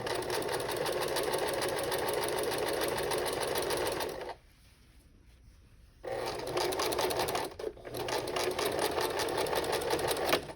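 A sewing machine runs steadily, stitching a seam on a fabric tote bag, with a clear rhythmic whir that stops for about two seconds near the middle and then resumes, close and loud.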